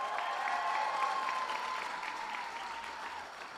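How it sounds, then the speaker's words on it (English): An audience at a state bill signing claps in a steady, dense round of applause that holds loud and even, then tapers slightly toward the end, with no voices over it. "So let's give a huge round of applause for the members of the legislature who are with us today"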